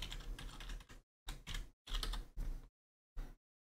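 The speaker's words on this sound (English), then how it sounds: "So let's enter our admin password." Admin password being typed on a computer keyboard in an office setting: several short bursts of close, crisp key clicks separated by brief pauses, with no talking.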